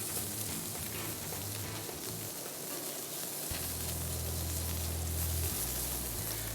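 Bacon and beef burgers sizzle on a hot grill with a little olive oil, a loud, steady hiss that never lets up, with a low hum underneath.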